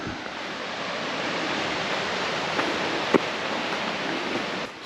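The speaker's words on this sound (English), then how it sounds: "A nice little waterfall." Small waterfall beside a mountain trail, a steady broadband rush of falling water heard close and even, with a single faint click near the end and no voices.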